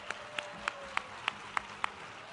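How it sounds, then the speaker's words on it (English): A single person claps about seven slow, evenly spaced times for the judges at a Santa Fe recycled trash fashion and costume contest, each clap a sharp, moderately close crack over a quiet background. "thank you to a big round of applause for our beautiful judges."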